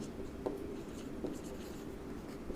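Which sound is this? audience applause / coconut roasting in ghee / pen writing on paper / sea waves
pen writing on paper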